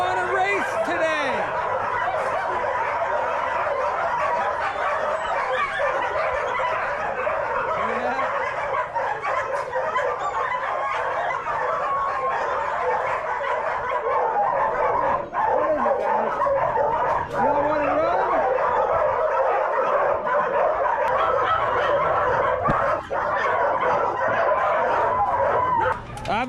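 A pack of greyhounds barks and yips continuously before a race, a dense, steady chorus of overlapping calls that stays loud for the whole stretch.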